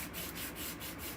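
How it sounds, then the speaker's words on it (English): A small sanding block rubs back and forth over gold-painted paper, a soft, steady scratchy hiss pulsing in quick strokes, close and fairly quiet. "It'd be easier if I had a big sanding block instead of this little tiny thing."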